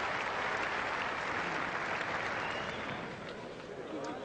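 Large crowd at an England versus Australia cricket test match applauding a boundary, a dense, sustained wash of clapping that fades slightly toward the end.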